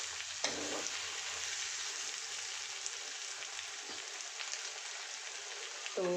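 Beef tripe fries with garlic in a pan as a soft, continuous sizzle at low volume, broken by a few light clicks of stirring and no speech.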